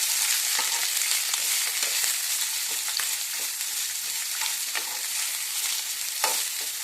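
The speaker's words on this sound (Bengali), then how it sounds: "এবার দেবো বিট, দিয়ে আমি হালকা একটু নেড়ে দিই" Beetroot stirred and fried in a pan for Kolkata-style vegetable chop, a steady close sizzle with soft scraping strokes of a spoon at irregular intervals, no talking.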